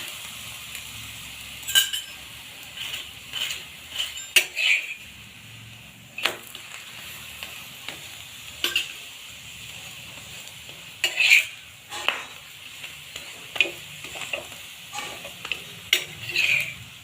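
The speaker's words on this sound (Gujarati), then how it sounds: "તેલ લગાવી લેશું શેકવા માટે આપણે" Oil-brushed thepla flatbread roasts on a hot griddle, giving a soft steady sizzle broken by repeated sharp scraping and turning sounds from a spatula, close and fairly quiet, with no talk.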